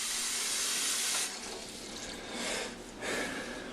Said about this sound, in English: I'm filling up the big water bath canner